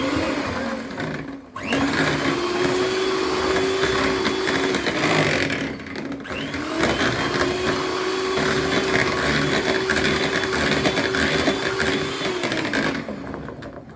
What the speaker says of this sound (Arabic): قبل ما نضرب بالمضرب لازم نعمل كده عشان الدقيق ما يطيرش في وشنا